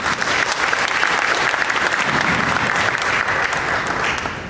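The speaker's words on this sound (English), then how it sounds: "please help me welcome our first table topic speaker, Ria, with a thunderous round of applause" A thunderous round of applause from a youth Toastmasters audience, loud dense clapping from many hands sustained throughout and tapering slightly at the end, with no voices over it.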